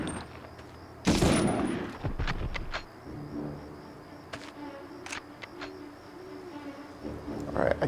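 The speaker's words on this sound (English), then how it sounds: "Is there someone else firing at me now because of that?" Gunfire rings out in the Medal of Honor video game, a loud burst of rapid shots at the start, then scattered single cracks and distant pops over ambient game sound.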